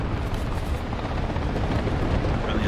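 Helicopter rotor and engine noise in War Thunder during a ground realistic battle, a dense steady roar with rumbling low thumps throughout, loud and continuous without speech.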